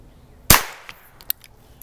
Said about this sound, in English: For the subsonic test, I'm going to be using the CCI standard velocity